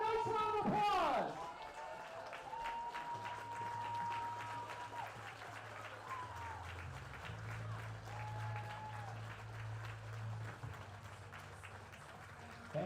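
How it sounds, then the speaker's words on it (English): Crowd applause fills the stands at a Batavia Muckdogs versus Auburn Doubledays baseball game honoring a Vietnam Army veteran, a steady broad wash of clapping lasting throughout, with a low organ-like tone and faint background voices underneath. "let's give him a nice round of applause"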